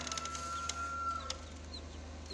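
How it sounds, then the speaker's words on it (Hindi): Newly hatched Brahma chicks peep from inside an incubator, with a few short high chirps and one longer thin whistle-like peep over a low steady hum of the machine. The sound is faint and there is no talking. "ये हमने ब्राह्मा की मुख्तलिफ़ अक़साम जो इंपोर्ट की थी, ये माशाल्लाह हमारे चिक्स निकल आए हैं"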